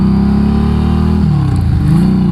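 A liquid-cooled 500cc Harley motorcycle engine runs loud and close while being ridden, a steady throbbing drone with a slight pitch shift midway as the throttle changes.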